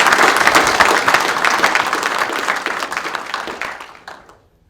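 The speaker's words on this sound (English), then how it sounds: "can we give a round of applause for Rodney?" A roomful of people at a Lagonda club annual general meeting applauds warmly, loud at first, then the clapping thins out and fades away.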